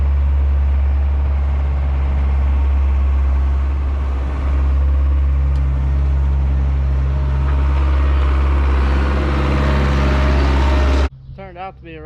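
A skid loader engine runs on a farm with a loud, close, steady low rumble that holds for about eleven seconds, then cuts off abruptly.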